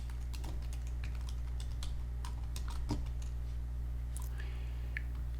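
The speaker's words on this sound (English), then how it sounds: "I'm going to type the word reflection, all caps." Rapid, irregular clicks of fingers typing a single word on a computer keyboard, close and clear over a steady low hum, with no voices.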